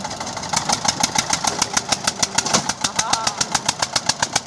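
An Eicher tractor engine runs loud and close, a steady, rapid chugging beat with evenly spaced pulses throughout.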